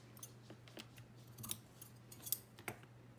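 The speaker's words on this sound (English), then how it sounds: "I want to layer the crocheted lace on top, so I just need to cut down a piece to fit here." Scissors snip through a piece of crocheted lace in a quiet room: a string of quick, light, close cuts over about three seconds, with a faint low hum beneath and no speech.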